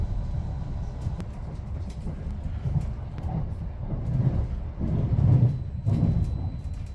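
A passenger train on an Ilkley service in Leeds runs with a steady low rumble throughout. A few heavier surges mark the ride, with no talking.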